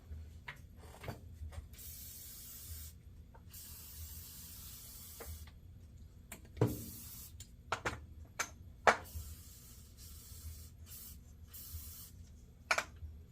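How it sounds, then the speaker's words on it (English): WD-40 lubricant hisses out of a spray can onto a vintage Ocean City 1800 fishing reel in several short bursts, separated by quiet gaps and small handling clicks, close and fairly soft. "Just give it a layer of protection there. Love WD-40."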